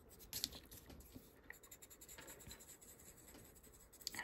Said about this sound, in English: And you soften it to lose those harsh pencil lines.